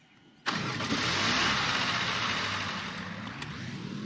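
A car engine in the Roblox game Dusty Trip cranks and catches abruptly, then settles into a steady, loud idle with a slight fade toward the end.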